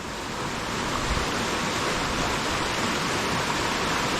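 Whitewater Dash waterfall in the Lake District, below Bakestall on the Skiddaw fells, gives a steady, full rushing roar of falling water that stays constant throughout, with no voices.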